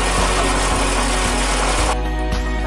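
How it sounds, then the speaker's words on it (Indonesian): An oil palm fruit digester machine runs steadily with a continuous loud mechanical drone and a rhythmic low thumping. The tone shifts and thins partway through as the load changes. "Mesin yang kamu lihat sekarang ini adalah mesin digester sesungguhnya"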